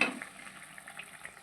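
Sour fish curry gravy made with raw mango and mourola fish simmers in a pan, producing a soft, quiet bubbling with small intermittent pops after a brief clink at the start.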